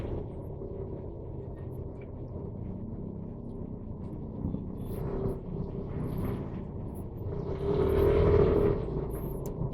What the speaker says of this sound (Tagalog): So, medyo traffic dito sa banda rito.